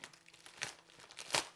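Competition scissors snip and crinkle through packaging near canvas, giving a few soft crunchy cuts and rustles with two sharper bursts, quiet and close.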